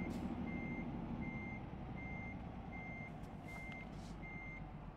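A DAF truck in Euro Truck Simulator 2 sounds its reversing alarm, a steady series of evenly spaced beeps over a low idling engine rumble, with a couple of soft hissing bursts.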